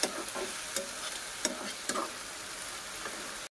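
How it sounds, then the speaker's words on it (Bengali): Vegetables fry in a hot pan with salt, soy sauce and vinegar, giving a steady close sizzle broken by sharp spatula scrapes and stirring clacks at irregular intervals, with no voices. "এটা আমি ভালো করে একটুখানি 10 মিনিট ভাজা ভাজা করব।"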